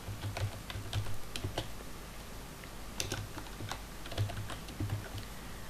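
Typing on a computer keyboard while writing HTML, with quick bursts of close, crisp key clicks and short pauses between them, no voices.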